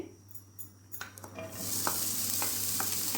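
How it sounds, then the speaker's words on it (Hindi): Chopped onions hit hot cooking oil in a pan: after quiet clinks, a loud hissing sizzle erupts and keeps going, with faint stirring scrapes on top. "2 टेबल स्पून हमने इनमें ऑयल डाला है और अब हम इसमें प्याज डालते हैं।"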